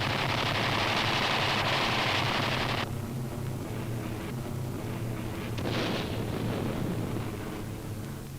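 Machine guns of A-36 fighter bombers strafing during a dive: a dense, continuous roar of rapid automatic fire, loud and unbroken, with shifting bursts that swell and ease slightly.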